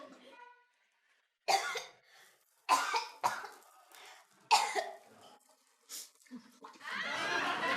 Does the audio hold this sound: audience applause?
no